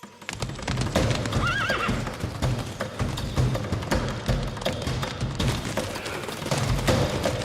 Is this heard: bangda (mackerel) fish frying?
no